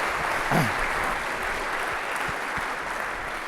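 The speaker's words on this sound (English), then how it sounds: "let's give Guy a huge round of applause for coming over here from the UK" A forum audience claps for Guy, visiting from the UK, a sustained, moderately loud round of applause from many people in a hall, with a faint voice briefly surfacing early on.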